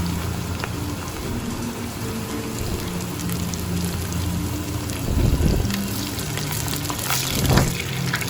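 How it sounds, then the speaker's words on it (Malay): Tempeh frying in hot oil, a dense steady crackle and sizzle with scattered pops and a couple of louder bursts near the end, close and without talk. "Mula-mula kita goreng tempe sehingga kekuningan."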